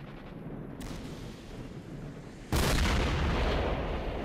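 Gunfire in the video game S.T.A.L.K.E.R. comes as a sudden loud burst of shots about two and a half seconds in, after a quieter stretch of ambient rumble.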